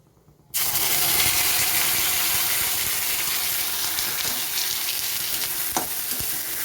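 Onion paste hits hot oil with frying rohu fish masala, setting off a loud, steady sizzle that starts abruptly and holds evenly, with faint stirring scrapes and no voices.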